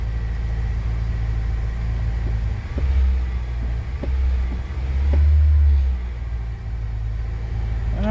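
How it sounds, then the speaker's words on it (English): A 2004–08 Acura TSX engine idling strongly with a steady low rumble, swelling briefly twice as if lightly revved, close and continuous with no talking. "But that's a pretty strong idle."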